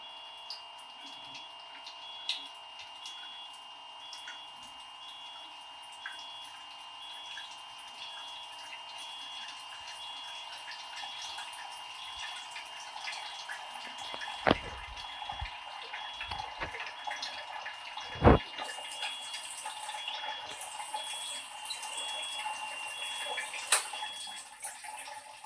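Water runs from a Kangen machine as 11.5 pH alkaline water fills a pink bottle, a steady close hissing flow with a few faint clicks throughout.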